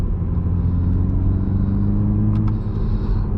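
A deep, steady engine rumble of a Toyota GR Supra cruising, loud and continuous, with a brief higher whine partway through and no talking.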